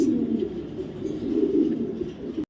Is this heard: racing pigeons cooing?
yes